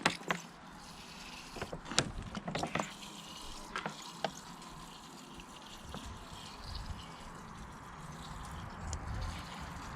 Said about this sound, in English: So we'll come in with the water, get it flushed nicely through.